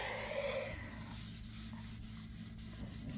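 Stainless steel being scrubbed with cleanser, a steady close rubbing and scouring with faint rhythmic strokes over a constant low background hum, no voices.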